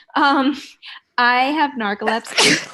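A single sharp sneeze bursts out at close range, followed by conversational voices talking nearby.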